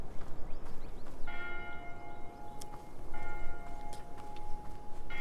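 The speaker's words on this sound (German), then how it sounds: "Oh, da kommen die Glocken." Church bells ring in the video game Bramble: The Mountain King, with two clear tolls sounding softly over a low, rumbling game ambience and no talking.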